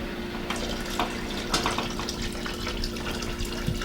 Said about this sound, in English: Now you take this water and add it to this kettle.